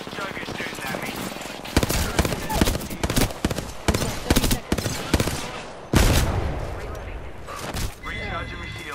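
Rapid automatic gunfire bursts from an Apex Legends trio match, loud sharp volleys repeating in clusters with a heavy blast near the middle, game voice callouts scattered between the shots.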